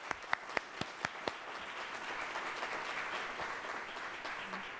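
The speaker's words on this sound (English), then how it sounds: "Let's give them a round of applause." Audience applause at a Columbus Metropolitan Club political forum in Ohio, opening with a few sharp distinct claps before swelling into steady, dense clapping from a room full of people that holds for several seconds.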